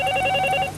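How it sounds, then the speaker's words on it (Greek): Telephone ringing in a 1980s Greek film comedy, a steady electronic ring with sustained bell-like tones continuing through the moment, fairly loud and clear with no talk over it. "Τηλέφωνο. Το άκουσα. Σήκωσέ το."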